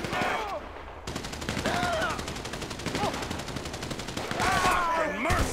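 Dense automatic gunfire during a heist shootout in GTA V rattles on continuously with sharp rapid shots, while voices shout over the chaos.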